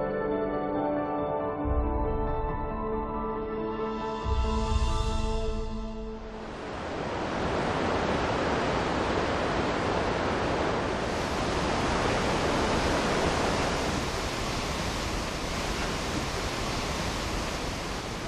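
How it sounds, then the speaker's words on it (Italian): Waterfall cascading into Geiranger fjord in Norway, a steady broadband roar that starts over a tonal musical passage and then swells into a continuous, dense rush of falling water filling the scene. "La vita degli abitanti di Geiranger è accompagnata 24 ore su 24 dal suono di questa cascata."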